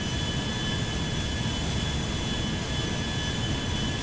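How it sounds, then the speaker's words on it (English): Jet engines of a Boeing 737 MAX-9 airliner in GTA 5 roar in a steady, dense broadband rumble with a faint high whine, loud and constant without speech. "I am hearing airplanes"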